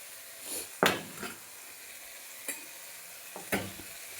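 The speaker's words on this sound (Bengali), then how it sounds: "এবার আমি উল্টে পাল্টে ভালো করে ভাজা করে নেব শাকগুলো।" Beto greens being stir-fried in a kadai, with a low steady sizzle broken by several sharp scraping tosses of the spatula at uneven intervals, close by but fairly quiet, no voices.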